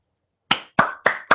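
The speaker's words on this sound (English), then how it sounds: "You might have to clap a few more times." Four sharp, close hand claps ring out at an even pace in a quiet studio during a daily gun talk show, each one a crisp, dry smack after a half-second of silence.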